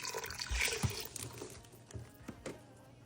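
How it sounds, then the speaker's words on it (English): Water being poured into a pot of black beans for Cuban-style black beans and rice, a soft, uneven splashing and trickling with a few gurgles, fairly faint and close. "I'm gonna add some water."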